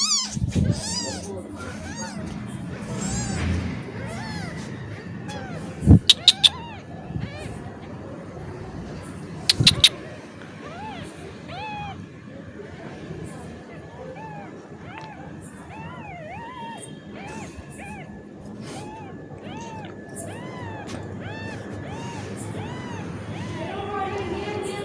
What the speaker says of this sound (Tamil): சத்தம் போடுற குட்டியாக தூக்கணும்.